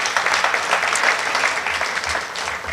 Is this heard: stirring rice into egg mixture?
no